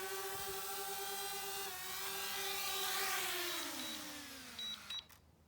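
A drone's motors whine with a faint, steady buzz as it is landed by hand, the pitch gliding lower as it descends, ending in a few small clicks.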